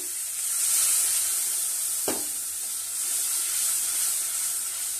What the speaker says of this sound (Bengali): এইভাবে ঘুরিয়ে নেব একটুখানি, দিয়ে জল ঢেলে দেব